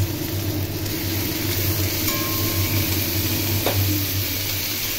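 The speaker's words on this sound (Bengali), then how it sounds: "এর মধ্যে এঁচোড়ের টুকরোগুলো দিয়ে খুব ভালো করে ভেজে নেব।" Young jackfruit pieces fry in hot oil for a Bengali enchor chingri dish, giving a steady, even sizzle that holds at the same level throughout with no talking.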